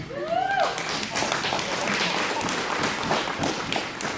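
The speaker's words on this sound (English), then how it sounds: "I'm glad you clapped." A church congregation applauds together in a steady, dense wash of clapping that fills the whole stretch, with a brief voice or tone near the start.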